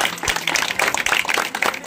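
A crowd at a church gathering breaking into applause, dense overlapping hand claps filling the space, loud and sustained for a couple of seconds.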